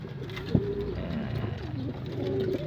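Racing pigeons coo in soft, repeated low throaty calls close by, with a brief sharp knock partway through and a steady background murmur.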